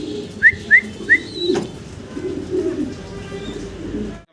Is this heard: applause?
no